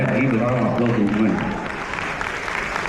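Audience at a women's entrepreneurship panel session claps in a steady, moderately loud wash, while a voice talks over the first half before the applause carries on alone.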